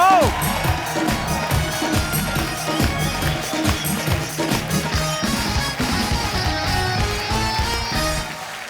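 Studio audience at a TV comedy show bursts into loud applause and cheering for a guest's entrance, dense clapping with whoops and shouts running throughout, over bright background music, fading slightly toward the end.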